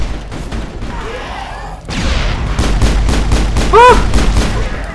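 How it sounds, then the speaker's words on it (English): Gunfire in the sci-fi shooter game Mass Effect, loud repeated shots rattling in quick bursts over a rumbling background, with brief game voice sounds mixed in. "Open fire, team."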